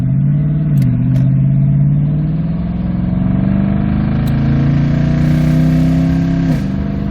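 Toyota Tundra 4.6L with a muffler delete exhaust accelerating: a loud raspy engine note rising through the gears, with a brief dip at each shift, heard close from inside and without talk.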